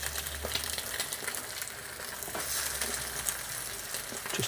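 Bacon and eggs frying in a pan on a gas hob, a quiet, steady crackling sizzle with scattered pops, close by and uninterrupted by speech.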